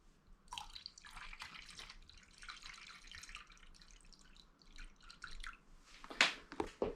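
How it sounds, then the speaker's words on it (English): Autoglym Soft Top Cleaner poured into a dish holding water, heard as soft trickling and dripping splashes that come in irregular bursts, close and quiet, with a brighter splash near the end. "I'm now going to add 250 ml of this into there."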